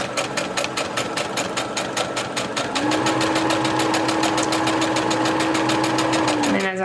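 Sewing machine stitching elastic onto a fabric face mask: a loud, close, steady rapid needle clatter running throughout, with a motor whine that rises and holds midway before easing off at the end.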